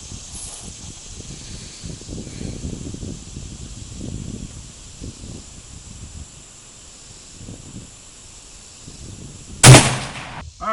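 A German Mauser K98K rifle fitted with a ZF39 high-turret scope fires one sharp, loud, close shot near the end, after several seconds of low rumbling and rustling outdoor background.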